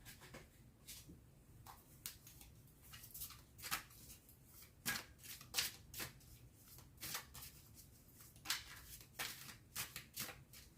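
Tarot cards being shuffled by hand, a run of brisk riffling and slapping bursts at an irregular rhythm, close and fairly quiet, with no voices.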